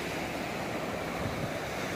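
Surf washing onto the white-sand beach at Pasir Putih, Trenggalek, a steady broadband roar of breaking waves with wind noise and no voices.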